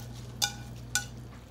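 A beef and tomato stir-fry with green onion gets stirred in a pan: two crisp metal clinks of the utensil against the pan over a low background hum.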